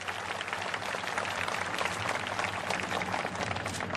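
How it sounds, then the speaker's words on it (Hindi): A crowd at the Chhattisgarh Rajyotsava state celebration claps to welcome Narendra Modi, producing dense, continuous applause that holds at an even level throughout with no voice over it. "तालियां बजा के आप स्वागत करेंगे।"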